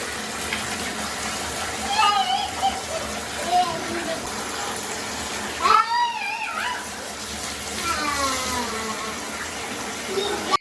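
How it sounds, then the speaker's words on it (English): Running water rinses shampoo out of a child's type 3 or 4C curly hair, a steady gushing stream with splashing swells, while someone talks over it and a young voice cries out. "I'm gonna go ahead and rinse that out now."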